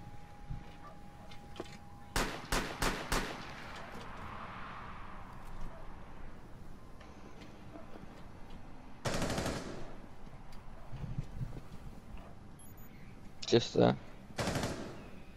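Mozzie fires his weapon in a Rainbow Six Siege round: quick rapid bursts of gunfire, a loud crack in the middle, and another cluster of shots near the end, with brief talk in between.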